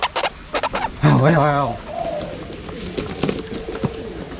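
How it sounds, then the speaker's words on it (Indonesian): Ornamental buttonquail give a warbling, wavering call in the middle of the stretch, loud and close, among short chirps and handling noises before and after. "ini gemak hias yang mulai dikembangkan di Indonesia"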